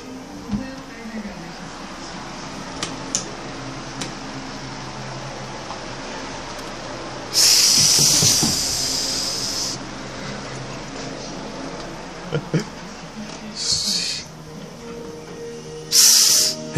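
A person imitates a cat's hiss with several short, breathy bursts, one long, loud hiss in the middle and shorter ones near the end, set over quiet room background with faint bits of movement.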